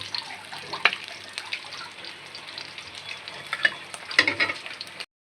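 Onions sizzle and fry in hot oil in a kadai over a low gas flame, a steady crackling hiss with occasional sharper pops and stirring scrapes, close and fairly quiet with no voices.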